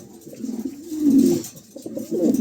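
Close pigeons, a pair of show birds offered for sale, coo in low throaty rolling bursts, one swelling in the middle and another near the end, with no speech over them.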